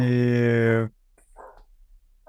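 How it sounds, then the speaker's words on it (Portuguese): A dog gives one loud, drawn-out bark close by, lasting under a second, followed by near silence with faint stirring sounds. "E agora o cachorro que latiu e eu acabei me atrapalhando"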